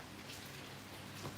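Rain falling outside, a faint, even patter heard from indoors that stays soft and continuous with no voices.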